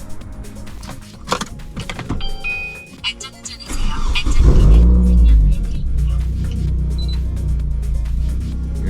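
A Kia Cerato car engine idles, then revs up into a deep booming exhaust rumble through a newly fitted variable exhaust that settles into a steady low drone, with clicks and mechanical noises early on.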